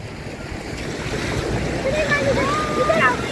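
Sea waves breaking on the beach at Hawksbay, Karachi, a continuous loud surf wash with wind buffeting the microphone, while faint voices and a few whistle-like tones rise near the end.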